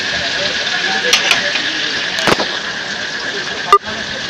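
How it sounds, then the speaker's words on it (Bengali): Crabs deep-frying in hot oil give off a steady, dense sizzle and hiss, close and loud, punctuated by a few sharp pops and crackles. "কাঁকড়াগুলো চরম আকারে ভাজা হচ্ছে"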